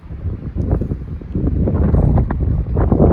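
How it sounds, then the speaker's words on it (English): Heavy wind buffeting a microphone on a hiking trail viewpoint in Murrin Provincial Park, British Columbia, a loud continuous low rumble and roar that swells and stays strong throughout, with no voices. "it was so windy you can't hear me"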